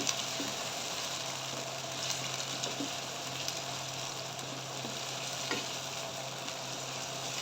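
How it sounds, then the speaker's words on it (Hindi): Whole spices, bay leaf, cardamom and cloves, fry in oil in a karahi with ginger-garlic paste, giving a steady close hiss and crackle through the whole stretch with a few soft scrapes of stirring. "और साथ ही हम इसमें डालेंगे थोड़े से खड़े मसाले, तेज़ पत्ता, इलायची और ये है लौंग। इनको अच्छे से फ्राई करेंगे।"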